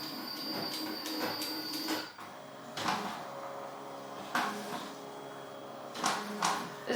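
A Ricoma MT1501 embroidery machine runs a trace out, moving its hoop in short bursts: intermittent mechanical whirs and clunks with a thin motor whine, close by, separated by quieter pauses.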